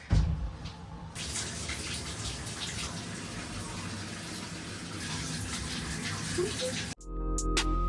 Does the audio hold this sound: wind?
no